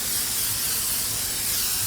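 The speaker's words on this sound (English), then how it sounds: "I'm going to spray it generously with the olive oil spray" A can of olive oil cooking spray releases a steady, close hissing spray that runs without a break for about two seconds.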